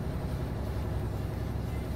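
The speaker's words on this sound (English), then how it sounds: "Oh, this truck is struggling through here." A heavy truck engine labors uphill in a trucking simulation game, a steady low rumbling drone that stays loud and constant with no other sounds over it.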